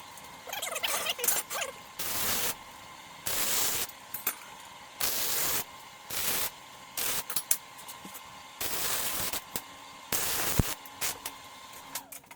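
A welder works on a steel plate in a shop, giving repeated bursts of crackling arc a second or so long, separated by short quiet gaps, close and fairly loud, with no talk.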